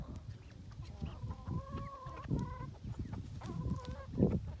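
Chickens clucking near and around while pecking at feed spread on top of compost, several short rising calls and soft clucks repeating over low scratching and rustling.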